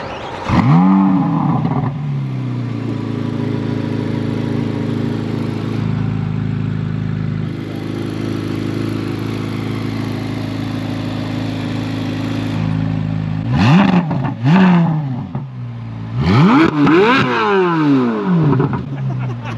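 A Chevrolet Corvette C8 Z06 engine roars loudly nearby, holding a sustained high rev before dropping, then snapping through several sharp rising and falling revs, with no speech over it.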